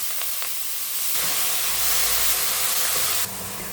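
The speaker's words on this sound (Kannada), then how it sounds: "ಎಣ್ಣೆ ಕಾದಿದೆ, ಸಾಸಿವೆ, ಸ್ವಲ್ಪ ಹಿಂಗು, ಅರಿಶಿನ ಹಾಕ್ತಾಯಿದ್ದೀನಿ, ಸ್ಪ್ರಿಂಗ್ ಆನಿಯನ್ ಹಾಕ್ತಾಯಿದ್ದೀನಿ" Mustard seeds, asafoetida, turmeric and spring onion hit hot oil with a loud, broad hiss that swells after a second and holds steady before dropping off abruptly near the end, with no talking.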